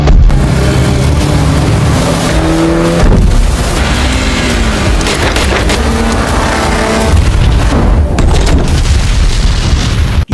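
A loud booming explosion from the action film Shadow Force as a boat crashes into bushes and blows up, a heavy rumbling blast layered with roaring engine noise and dramatic music throughout.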